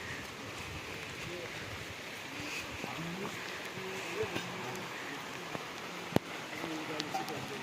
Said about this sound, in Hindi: अभी फिर से यहाँ पे बारिश होने लग गई है।